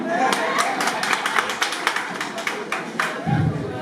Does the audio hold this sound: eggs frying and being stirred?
no